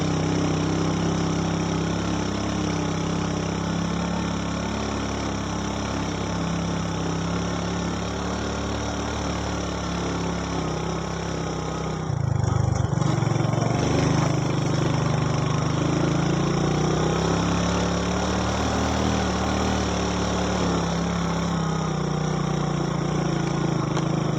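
A motorcycle engine drones steadily on a steep mountain trail to Mount Ungaran via Nyatnyono, a loud, continuous mid-pitched hum that surges briefly midway before settling back.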